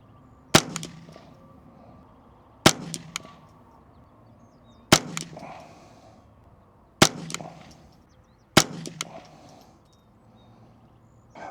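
Five evenly spaced gunshots from a custom Ruger 10/22 rifle with a brand new barrel, each a sharp close crack with a short echoing tail, fired about two seconds apart outdoors with no talking.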